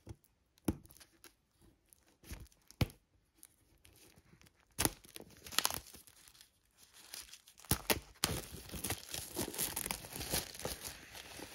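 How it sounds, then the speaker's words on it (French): A Blu-ray box set is unwrapped, its plastic film crinkling and tearing close up in irregular bursts that grow denser and more continuous toward the end, with no talk. "Allez, on se le déballe."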